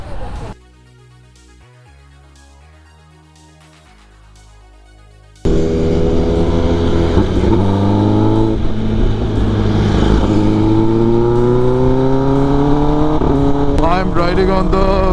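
A Kawasaki ZX10R motorcycle ridden on an open road, the engine loud and close, a strong steady drone that rises in pitch as it accelerates, after a few seconds of quieter tones at the start.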